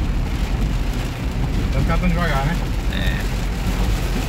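Heavy rain drums steadily on a car during a drive through a downpour, a dense low rumble and hiss running under people chatting inside the vehicle.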